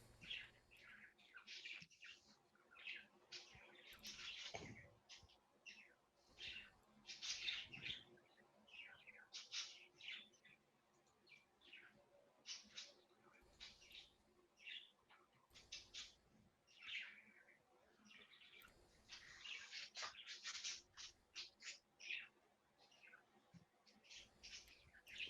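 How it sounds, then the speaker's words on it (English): Pet birds kept indoors chirp, tweet and squawk almost nonstop in quick irregular bursts, fairly faint and close-by in a quiet room, with occasional louder calls and no voices. "The birds are just going at it."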